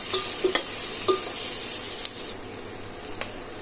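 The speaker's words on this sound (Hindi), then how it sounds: "अब जो ये हमारा प्याज है इसको भूनते हुए लगभग एक मिनट हो चुका है" Sliced onions frying in a pan, a bright continuous sizzle punctuated by a few quick scraping stirs near the start, close and fairly loud, with no one speaking.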